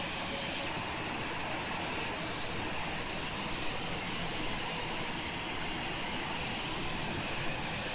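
Cockpit drone of an Aerobask Eclipse 550NG jet in X-Plane 11, descending toward Tokyo: a steady, broadband engine roar and airflow hiss that stays even and unbroken throughout.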